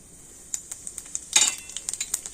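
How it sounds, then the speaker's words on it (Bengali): Nigella seeds sizzling in mustard oil, a thin high hiss with a rapid run of small crackles and pops and one louder burst midway, close and alone with no talking. "আরও তেলের মধ্যে দিয়ে দেবো অল্প একটু কালো জিরে"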